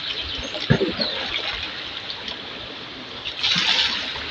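Clear water flows and trickles in an outdoor stream, a continuous close babble with a few brief splashes.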